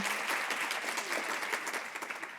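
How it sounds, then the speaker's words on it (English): An audience at a summit applauds the speakers, a continuous, even wash of clapping heard fairly quietly and from some distance, with no voices over it. "If we can just give them another round of applause."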